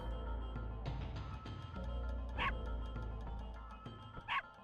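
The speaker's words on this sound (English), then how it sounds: "You can only have the dog bark at you." A dog in the video game The Legend of Dragoon gives two sharp barks a couple of seconds apart over a looping game music bed.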